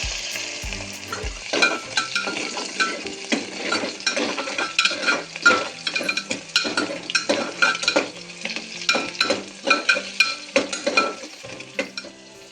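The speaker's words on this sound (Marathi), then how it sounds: "आम्ही छान असं तेलात तळून घ्यायचं बांध कांदा" Onions frying in oil for a Kolhapuri-style black masala mutton curry sizzle steadily up close, while a ladle scrapes and clinks against the pan in a busy, irregular rhythm.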